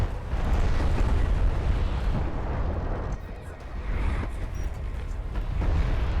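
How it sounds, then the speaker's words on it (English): Missile strikes from a carrier pounding targets in a strategy video game, a dense run of deep rumbling blasts and bursts rolling on continuously with brief dips, loud and close. "you can see that the carrier missiles are hitting as well"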